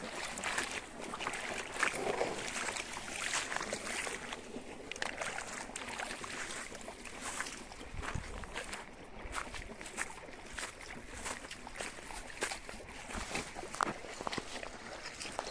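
Irrigation water overflows an entire earthen channel on a farm, a steady, close rushing wash that holds level throughout with no break or pause.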